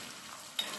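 Potatoes fry in hot oil in a pan for homemade fries, giving a close, continuous sizzle with a brief stir or clatter near the end and no talking.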